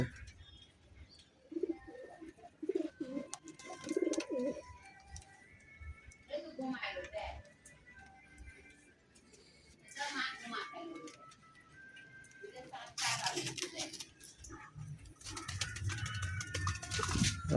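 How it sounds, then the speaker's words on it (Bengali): Pigeons cooing after rain, faint intermittent coos and fluttering mixed with a person talking nearby, with louder rustling bursts toward the end. "আমার কবুতরগুলো আজকেও বৃষ্টিতে গোসল করছে দেখেন"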